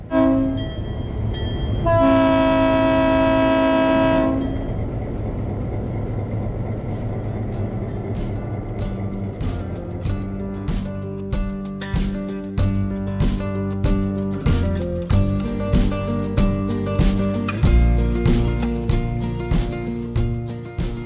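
A loud train horn blasts early on at Clarkdale Depot, then rhythmic clacking of wheels over rail joints builds steadily as the Verde Canyon train rolls along.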